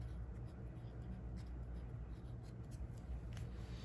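A derivative equation is written out on a board, giving a faint, steady scratch of the writing tool against a hum of room noise.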